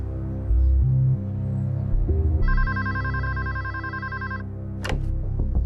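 A telephone rings with a steady electronic trill lasting about two seconds, clear over a low hum and room noise, with a brief clunk near the end.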